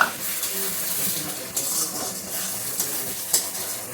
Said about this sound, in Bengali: কাজু বাদামটা দিয়ে নাড়াচাড়ার মধ্যে রাখতে হবে